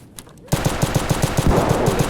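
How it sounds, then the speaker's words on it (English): Automatic gunfire in Escape From Tarkov, a rapid, evenly spaced burst of about a dozen loud shots that starts abruptly after a short quiet moment. "Oh, that's a lot of shooting going on out there still."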